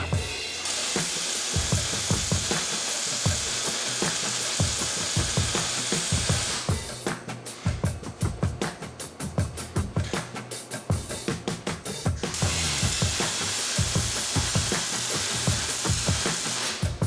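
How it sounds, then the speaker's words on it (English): The original foot pegs are cut off a Honda 3-wheeler being converted into a fat tire dirt bike: a harsh, steady cutting hiss gives way to a long stretch of rapid rhythmic rasping strokes, then the steady hiss returns. "Now I just need to chop off the original foot pegs."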